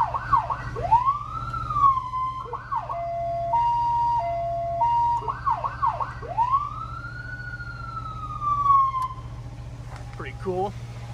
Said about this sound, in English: We added the siren box inside as well.